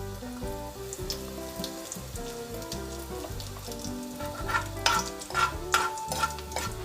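Garlic and green chillies frying in a pan for a Konkani curry, a steady soft sizzle with occasional stirring scrapes, close by and fairly quiet.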